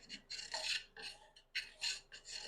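A hand plane takes the back corner off a wooden board to cut a chamfer. It makes several short, dry rasping strokes in an uneven rhythm, close up and with no talking.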